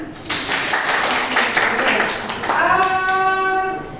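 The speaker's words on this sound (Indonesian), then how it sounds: "Boleh tepuk tangan." Students clapping in a classroom, a sustained patter of many hands near and moderately loud, with a voice speaking over the latter part.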